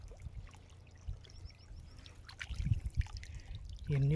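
Water is poured and splashed out of a small pond to catch fish, heard as faint trickling and sloshing that grows louder toward the end, with outdoor background noise.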